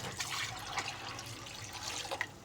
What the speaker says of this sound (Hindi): अब इसके अंदर हम पानी डालेंगे